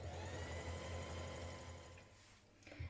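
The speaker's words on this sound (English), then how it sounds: "Now top stitch along your top edge" A sewing machine hums steadily while topstitching along the top edge of a backpack pocket, closing the turning hole; a close, continuous mechanical whir that eases off near the end.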